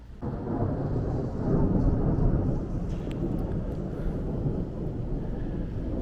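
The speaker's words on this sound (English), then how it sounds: "see the lightning in the distance, hear the thunder" Low, rolling thunder from an approaching storm with distant lightning, during tornado weather at a campground on Pine Island, Florida, rumbles steadily through the whole stretch, broad and heavy, with a faint rushing wind over it and no voices.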